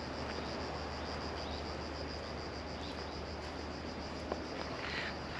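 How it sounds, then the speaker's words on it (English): Cicadas in a pine forest near a beach in Çanakkale, Turkey, give off a faint, continuous insect drone from a distance under a steady wash of outdoor ambience, with no voices. "you can hear cicadas in the distance"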